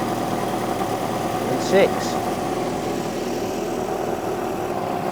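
MG Midget classic car engine idling after carburettor balancing, a steady close low hum with a brief voice over it.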